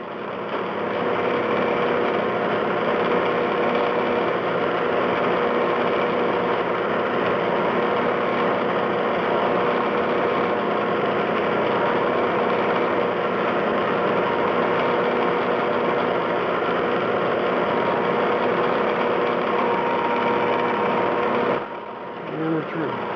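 A milling machine plunge cuts a port into a steel muzzle brake with a steady high whine and motor drone that holds loud and even, then drops off abruptly near the end.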